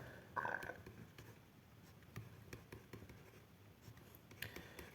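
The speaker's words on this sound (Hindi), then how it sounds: "मैं यहाँ पे लिखता हूँ एक बार" Marker or chalk writing on a classroom board during a Hindi history lesson, a few short scratchy strokes at moderate distance with a low room hum underneath and no talking.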